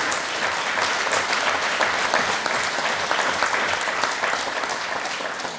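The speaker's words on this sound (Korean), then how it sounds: "우리 박수 한번 하겠습니다." A church congregation at a Thanksgiving Sunday service applauds the elders with dense, sustained clapping that fills the hall evenly for several seconds.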